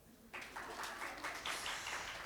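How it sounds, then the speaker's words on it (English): Audience applause at a symposium on education, health and wellness begins abruptly and continues as a soft, fairly distant clapping wash, with a few louder bursts. "Ooh, sorry, I took away from your applause."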